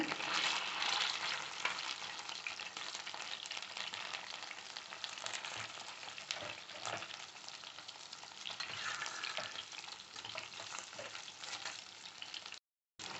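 Chicken pieces for black pepper chicken frying in a pan, a steady dense sizzle running throughout with light stirring and turning noises, close and fairly loud, no talking.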